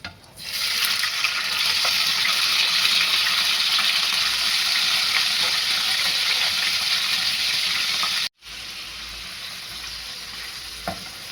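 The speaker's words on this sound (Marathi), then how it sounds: "आता आपल्याला याच्यामध्ये पनीर तळून घ्यायचं आहे." Paneer frying in hot oil, a loud, dense, continuous close-up sizzle holding steady for about eight seconds before cutting out, then a quieter sputtering tail, no voices.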